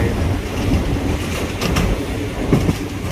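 Thai train number 313 running on rails from Hua Lamphong into Bang Sue, heard from on board as a loud, steady rumble with rhythmic clickety-clack of wheels over rail joints and brief squealing.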